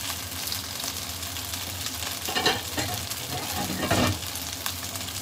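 Gyoza crackle and sizzle steadily in a hot pan once the lid comes off, a dense frying hiss with a few louder bursts of spitting partway through.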